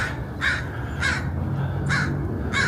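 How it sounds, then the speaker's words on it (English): Crows caw in a cemetery in Portland, Oregon, giving four harsh calls at steady intervals over a low background hum, fairly close and clear, with no talking. "These crows are barking this morning."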